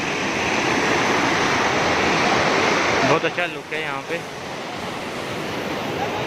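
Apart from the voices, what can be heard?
water flowing through canal bridge gate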